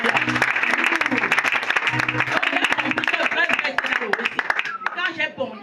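Congregation at a Sunday church testimony service applauding, dense continuous clapping loud throughout, tapering off near the end with voices and cheering mixed in.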